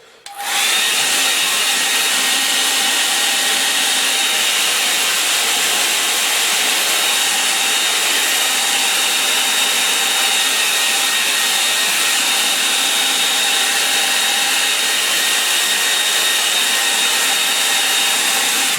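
A hair dryer blows steadily over a wet watercolour river painting, a loud, continuous whooshing roar that starts abruptly and holds unchanged to the end, with no voices over it.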